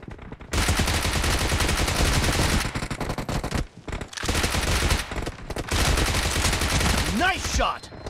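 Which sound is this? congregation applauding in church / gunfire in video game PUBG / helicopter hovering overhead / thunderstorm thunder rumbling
gunfire in video game PUBG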